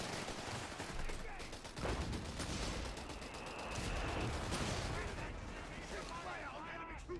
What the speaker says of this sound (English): Double mortar